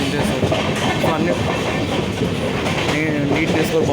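A passenger train of LHB coaches crosses the bridge over the Krishna River, giving a dense, steady, close rumble with rapid rattling wheel noise throughout.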